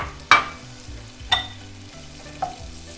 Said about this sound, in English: Just going to saute that for a couple minutes until the onions start to get translucent